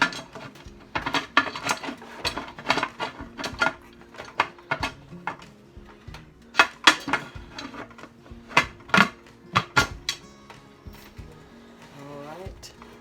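Metal lid of a pressure canner being set in place and locked, a series of close clanks, scrapes and metallic knocks in an irregular rhythm, with a person speaking at times.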